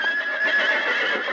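A horse neighs in a loud, sustained whinny lasting over a second, close and alone without any talk.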